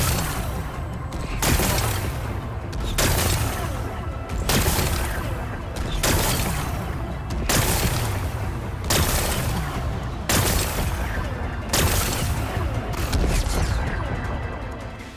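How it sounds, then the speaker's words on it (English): Repeated explosive blasts breaking rocks in the video game Horizon Forbidden West, loud booming bursts arriving at a steady rhythm about every one and a half seconds, each with a rumbling tail, without talk. "Gotta blast away some rocks."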